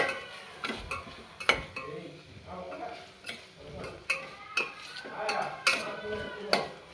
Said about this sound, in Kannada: ಆಗಲೇ ನಾವು ಕಟ್ ಮಾಡ್ಕೊಂಡಂತಹ ಮೊಟ್ಟೆನ ಆ್ಯಡ್ ಮಾಡೋಣ. ಆ್ಯಡ್ ಮಾಡಿ ಸ್ವಲ್ಪ ಫ್ರೈ ಮಾಡೋಣ.